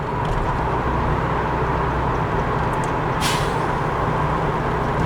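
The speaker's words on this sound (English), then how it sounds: "that was that truck there with the air brakes" A short hissing burst of air brakes from a nearby truck rises briefly over a constant low road and engine drone heard from inside a Toyota Celica.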